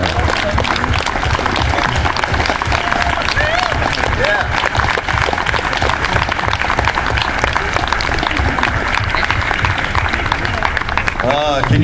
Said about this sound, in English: Can you hear the clapping for you?